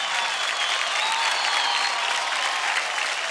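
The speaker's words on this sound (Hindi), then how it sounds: "Come on guys, जोरदार ताली हो जाए अभी के लिए।" Loud, steady audience applause fills a televised dance competition stage after a performance, dense clapping without a break throughout.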